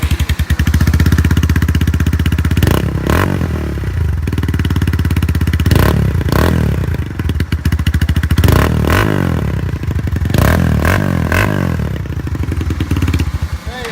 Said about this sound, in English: Give you a little demo of how it sounds now.